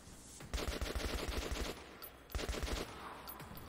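Two bursts of rapid automatic gunfire in the video game Metro 2033, each a quick string of close, punchy shots separated by a brief pause.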